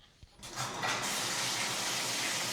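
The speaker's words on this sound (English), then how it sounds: "So now we have some water running in the background." A tap runs steadily indoors, water pouring as a constant broadband rush that builds in after a brief quiet start and continues unbroken, fairly faint and close.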